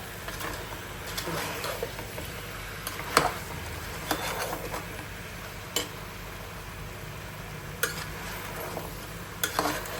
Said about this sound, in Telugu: మంచిగా మిక్స్ చేసుకుందాం ఇది